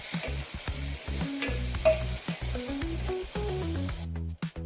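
Steady sizzling of finely chopped tomatoes frying in a pan, with repeated scraping and stirring clatter from a utensil, close and continuous.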